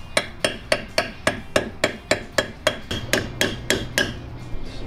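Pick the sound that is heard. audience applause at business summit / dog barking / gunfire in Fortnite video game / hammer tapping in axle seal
hammer tapping in axle seal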